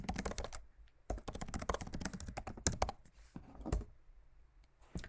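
Rapid keystrokes on a computer keyboard while entering a Stata command, irregular bursts of close, crisp clicks with short pauses between runs.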